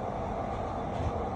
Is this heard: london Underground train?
yes